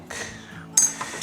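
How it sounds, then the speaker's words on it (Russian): A fork mixes baking powder into sifted flour in a bowl for a rhubarb pie, making light scraping and two quick metallic clinks against the dish, close and brief. "И этот пекарный порошок мы сейчас вилочкой перемешаем."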